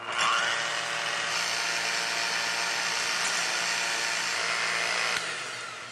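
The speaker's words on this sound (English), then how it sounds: "now beat up your egg whites until they're glossy and stiff" An electric mixer whips egg whites until stiff and glossy for waffle batter, a steady high whirring hum running about five seconds before tapering off, no talk.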